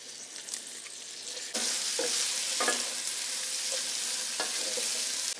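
Onions dropped into hot bacon drippings in a pan: a sudden loud sizzle that surges and holds steady, with a few stirring scrapes over the frying close by.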